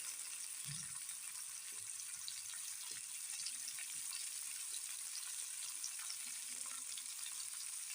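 Bombili fish frying in hot oil with curry leaves and salt, a steady soft sizzle running throughout with a few faint clinks and stirring sounds, no voices.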